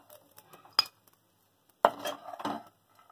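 Cooked horse gram sundal being scooped from a pan into a bowl, with a sharp utensil clink early on and a longer scraping, clattering burst of metal against cookware a moment later, then quiet.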